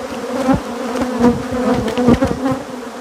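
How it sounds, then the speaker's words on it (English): Killer bees buzz loudly and steadily up close, a dense continuous drone with shifting pitch as individual insects pass near, with no voices. "Killer bees."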